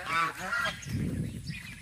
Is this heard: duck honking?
yes